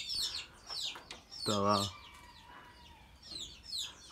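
A bantam (garnizé) rooster crows once from a distance in a backyard chicken coop. The crow is brief and clear, and people talk before and after it.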